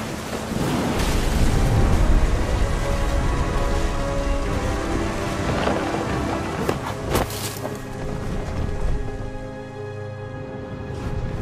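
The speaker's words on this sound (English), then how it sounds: "Thunder sounded much too close and full of angry power." Steady rain pours in a stormy video-game scene, a loud, hissing wash with faint, scattered cracks that may be distant thunder, fading slightly toward the end with no voices.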